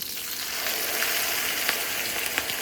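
Ground spice paste fried with curry leaves in a pan, bubbling and sizzling steadily for a few seconds with occasional small pops, close and alone.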